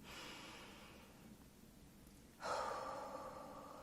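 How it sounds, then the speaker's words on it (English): During a guided meditation, a slow, deep cleansing breath is drawn in, soft and airy, with a stronger inhalation swelling near the end. "take a deep cleansing breath in again"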